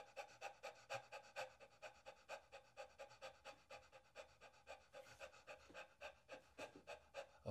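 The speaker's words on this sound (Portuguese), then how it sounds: "Agora se eu voltar a ficar com uma respiração rápida e curta." A person deliberately breathing fast and short, a close, quiet series of rhythmic panting breaths, about three per second and evenly paced, with no talking.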